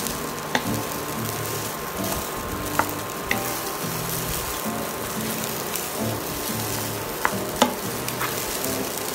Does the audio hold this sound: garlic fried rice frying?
yes